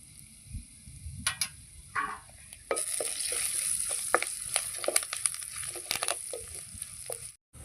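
Cumin, garlic and curry leaves frying in oil, with crackling sizzles and sharp pops that swell into a busy spatter. Occasional stirring scrapes are heard before it cuts off abruptly.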